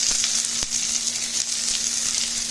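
Smashed potatoes sizzle over high heat in clarified butter, a steady crackling fry with occasional sharp pops. It stays close and even throughout, with no talk.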